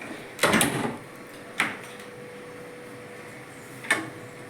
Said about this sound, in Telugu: డోర్ తీయాలి.